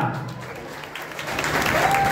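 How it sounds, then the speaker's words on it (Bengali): Applause at a student union event organized by TMCP rises from a murmur of voices, and the clapping swells louder over the final second. "জোরে হাততালি হবে না?"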